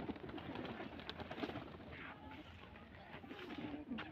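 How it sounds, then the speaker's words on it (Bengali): Pigeons in a Rajshahi giribaj loft coo softly and continuously, low murmuring calls blending with feeding shuffles and a steady busy background. "কবুতর গুলো খাচ্ছে"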